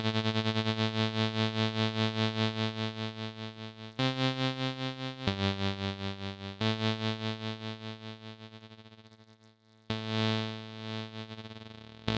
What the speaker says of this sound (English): you can hear that the volume of that going up and down in a kind of tremolo effect